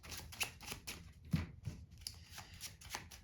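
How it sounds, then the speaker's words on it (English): A deck of playing cards is shuffled by hand during a card trick: a series of quiet, quick riffling bursts in an irregular rhythm, close by, with no talking. "put this off to the side as they're shuffling here"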